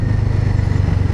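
A motorcycle rides along a rough, patchy forest road near NH 8 on the way from Tripura to Mizoram. Its engine throbs steadily, loud and close, in a continuous low rumble with no voices.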